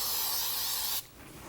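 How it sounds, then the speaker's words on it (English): Non-stick baking spray hisses from an aerosol can onto parchment paper in a kitchen, one close, steady burst that cuts off sharply after about a second. "I'm actually going to spray the parchment with a non-stick baking spray"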